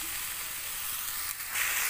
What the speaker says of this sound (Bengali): ওলের ডাঁটার সাথে মশলাগুলো ভালো করে কষিয়ে নেব